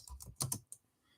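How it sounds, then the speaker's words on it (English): Fingers typing on a computer keyboard in a quick burst of close, crisp key clicks, followed by a brief pause and one last keystroke, with no talking. "Why am I typing when I can copy and paste?"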